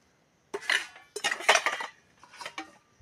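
A small steel dish taken out and set down, a few bright metallic clinks and scrapes of cutlery and pans in a quiet kitchen.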